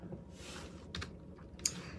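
Someone types on a computer keyboard, with quiet, close clicks in a few short clusters over a soft background hum.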